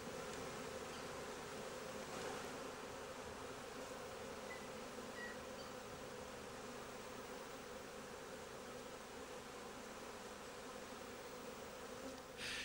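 Honey bees hum steadily at a hive during queen rearing with cages, a dense continuous buzz that stays even and fairly loud throughout with no talking.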